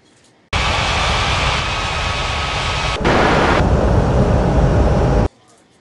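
A loud, close airliner rumble roars steadily for about five seconds as the plane comes in to land in the Capeville City International mobile air traffic control game, shifting tone partway through before cutting off abruptly.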